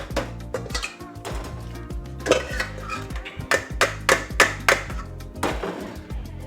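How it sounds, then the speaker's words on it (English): Boiled potatoes with semi-skimmed milk, butter and black pepper being mashed in a pan, with a steady run of soft thuds and sharper metallic clinks from the masher striking the pot, close and fairly loud. "you want to mash these potatoes so they're nice and soft"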